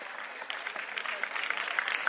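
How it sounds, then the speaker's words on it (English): An audience at a school annual day prize ceremony gives a round of applause for a medal winner, a fairly soft, dense patter of clapping from a seated crowd, steady across the short stretch. "A huge round of applause in absentia."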